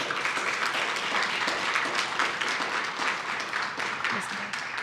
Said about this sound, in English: Please give a round of applause for Fire Chief Joel